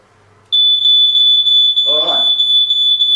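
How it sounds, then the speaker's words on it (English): A smoke detector set off by steam starts with a sudden, loud, continuous high-pitched electronic beep after a brief quiet moment. The piercing tone stays steady, and a voice speaks briefly underneath it. "If the smoke detector is engulfed in the steam, it will go off."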